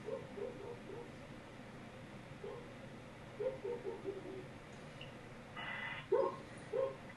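Dogs heard outdoors through a doorbell camera, a few faint, distant yips and short barks with a whimpering tone scattered over steady background noise.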